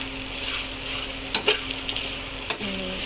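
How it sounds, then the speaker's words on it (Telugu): Chuduva snack mix sizzles steadily in a hot pan while a utensil stirs it, with a few sharp scraping clacks against the metal over the constant frying hiss. "కొంచెం వేగేంతసేపు వేయించుతూ ఉండాలి"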